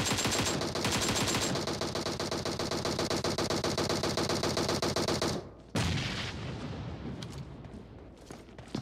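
Rapid bursts of automatic gunfire in the mobile battle-royale game PUBG Mobile hammer out loud and continuous for about five seconds, then a few scattered shots follow more faintly.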